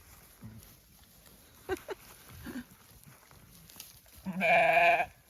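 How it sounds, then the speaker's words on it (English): Little lambs bleating at a hay bale, with one loud, close bleat near the end after quieter, scattered animal calls and faint stirring sounds. "There's a whole stack of little lambs up here."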